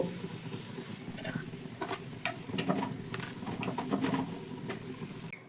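Semolina tiffin snacks deep-frying in oil until browned on both sides, a steady close sizzle with scattered bubbling pops and light utensil touches.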